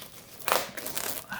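A box of 1997 Topps Finest Series 2 baseball cards being opened: soft crinkling and tearing of wrapper and cardboard, close and fairly quiet, in a few short bursts.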